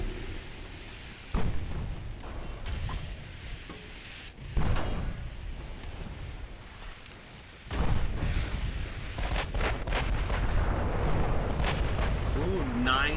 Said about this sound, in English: it's time that we bring them our full broadside because now we're sort of we're a lot closer